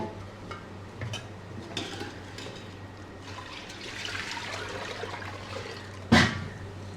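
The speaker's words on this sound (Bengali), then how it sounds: "ডাল ধুয়ে নিলাম" Lentils are washed in water in a pot, with soft sloshing and trickling, faint background noise, and a sharp splash or clatter near the end; no one speaks.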